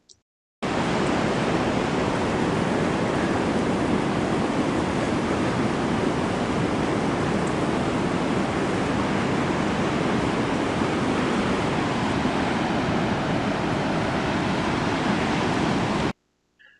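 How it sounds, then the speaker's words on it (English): Ocean surf roars below a coast road in Tillamook County, Oregon, in stormy weather, a loud, dense, unbroken wash of crashing water and wind that starts abruptly and cuts off near the end. "kind of a nice walk with the ocean roaring down below"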